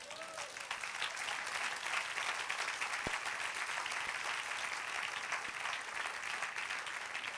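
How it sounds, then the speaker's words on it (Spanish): Congregation applauding during a church service, a continuous, even wash of many hands clapping at steady loudness throughout, with a couple of faint knocks beneath. "Un aplauso, Señor."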